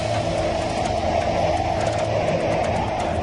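Hurricane Andrew's winds roar outside a house, a loud, steady, rumbling wall of wind noise that stays constant throughout, with no voices.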